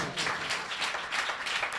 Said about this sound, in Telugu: చప్పట్లు కొట్టండి యేసయ్యకి.